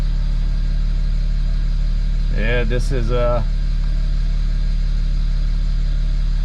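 A BMW 335i engine idles with a steady low drone, and someone speaks briefly over it partway through.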